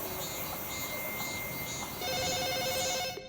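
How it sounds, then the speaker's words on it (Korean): A telephone rings for a mother in a hushed room: a steady electronic tone at first, then brighter pulsing rings with layered tones near the end, fairly loud with no voices. "어머니에게 전화가 걸려왔습니다."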